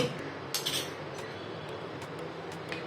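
A spoon clinking against a pan as paneer is stirred with cumin, chili flakes and black pepper, a few sharp metallic taps over a low kitchen background.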